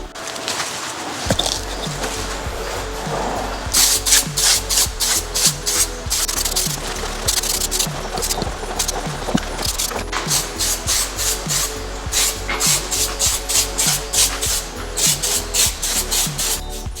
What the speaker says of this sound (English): we'll shake the can vigorously for 1 or 2 minutes